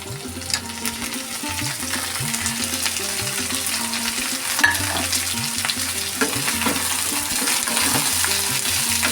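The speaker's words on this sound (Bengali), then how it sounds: "এখন আমি আর এখানে আলু আর চিচিঙ্গাটা দিয়ে দেব" Potato and snake gourd chunks fry in a pan, a loud continuous sizzle with repeated stirring scrapes close by and a low tonal hum underneath, no one speaking.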